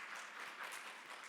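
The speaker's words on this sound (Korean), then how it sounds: "우리 하나님께 영광의 박수로." A church congregation applauding in a Korean church: dense, steady clapping from many hands filling the room throughout, fairly loud and with no talk over it.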